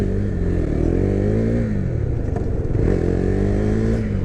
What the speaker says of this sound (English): I love the way the bike sounds, I have to say again. This is not that brutish kind of sound, but it's a more refined, stately sound